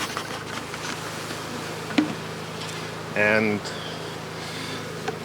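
Honey bees in an open hive during an inspection: a faint continuous buzzing hum throughout, with a brief puff of smoker noise and a short voice heard over it.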